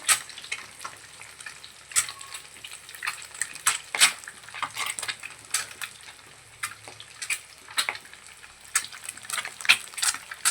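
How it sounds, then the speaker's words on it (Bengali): Eggs fry lightly in oil in a pan for an egg curry, with a continuous soft sizzle broken by sharp, irregular pops and crackles throughout, close up and with no talking. "এই হচ্ছে আমার হালকা করে ভাজা ডিমগুলো"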